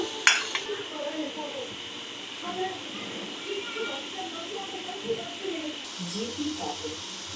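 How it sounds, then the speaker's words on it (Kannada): Gulab jamun balls frying in hot oil for Diwali, heard as a steady soft sizzle and hiss with occasional clinks of a utensil against the pan, under quiet talk. "ಈಗ ಮತ್ತೊಂದು ಸಲ ನಾನು ಹುರಿದಿಟ್ಕೊಳ್ಕೊತೀನಿ"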